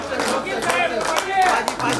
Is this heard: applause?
yes